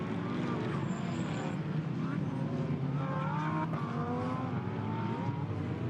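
GT4 race cars at the Paul Ricard circuit, a mixed field of Audi, Alpine, Porsche, Mercedes, Toyota and Aston Martin, their engines forming a steady droning roar in the distance under constant crowd and commentary noise.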